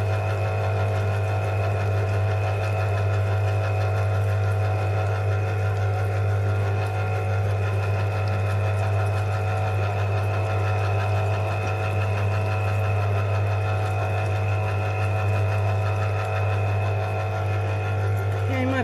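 Electric orange juicer running steadily with a constant low motor hum and buzzing whir, moderately loud and unbroken throughout, with a voice speaking over it.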